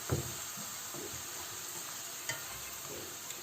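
Bitter gourd pieces frying in hot oil in a pan, a quiet, continuous sizzle with light stirring scrapes and a couple of soft knocks near the start.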